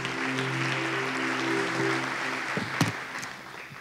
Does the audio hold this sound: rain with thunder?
no